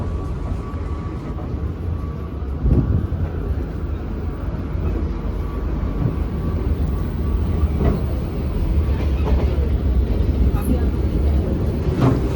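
Steady interior rumble of the KA Joglosemarkerto economy-class train running from Semarang to Solo, a constant low roar of wheels and carriage with no clear talk.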